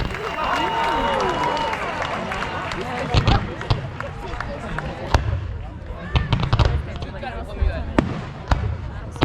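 Fireworks bursting over a Swiss mountain town celebration, a series of sharp cracks and booms at irregular intervals, some close and loud, over a low crowd murmur with people talking.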